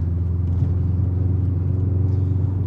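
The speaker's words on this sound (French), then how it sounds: "Il y a le ronflement du moteur, il y a l'échappement, il y a le petit dégazage du turbo." A Subaru Impreza WRX rally car engine rumbles steadily with a deep exhaust drone, heard close and continuous at moderate loudness without a distinct turbo hiss.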